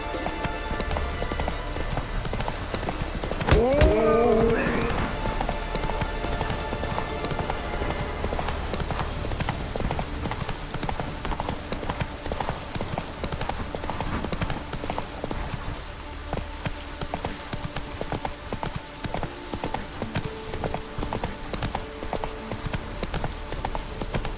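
Hoofbeats of Roach, a horse in The Witcher 3: Wild Hunt, clip-clopping at a steady gallop throughout, with a short whinny near the start over a continuous ambient game background.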